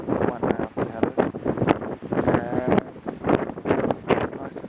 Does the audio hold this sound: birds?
no